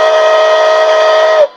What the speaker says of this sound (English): long whistle, short whistle.